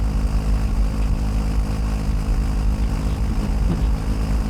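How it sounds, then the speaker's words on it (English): A loaded Royal Enfield Himalayan 450 motorcycle cruises at about 80 mph on a freeway, a steady loud engine drone mixed with heavy wind roar throughout, with no speech. "the Royal Enfield Himalayan 450 will do 80 plus miles an hour on the freeway fully loaded down"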